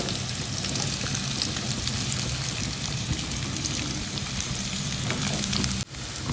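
Potatoes and green chillies fry in a pan of oil with a dense, even sizzle like steady rain, close and constant, dipping briefly near the end before resuming.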